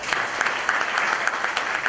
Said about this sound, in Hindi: जोरदार तालियां आनंद कुमार जी के लिए।